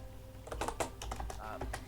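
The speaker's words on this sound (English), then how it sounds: "I was typing to someone" Quick bursts of typing on a computer keyboard, close and clear, a flurry of keystrokes tapped over a low background hum.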